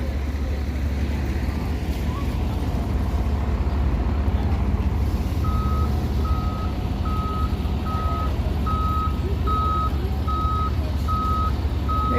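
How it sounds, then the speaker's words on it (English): A backing-up bus sounds its reversing alarm on a Toronto street, regular evenly spaced beeps over a loud, constant rumble of city traffic. "Careful, bus. It's backing up."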